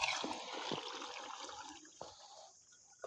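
A DC mud pump draws water from a pond, giving a rushing, gurgling stream with brief sharp knocks and a dip as the flow falters near the end.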